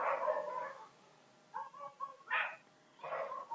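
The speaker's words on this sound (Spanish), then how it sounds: "no sé si se escucha el ruido de perritos que están ladrando" Dogs barking in several separate bursts, a few sharp yaps in the middle, moderately loud and slightly distant, with quiet gaps between.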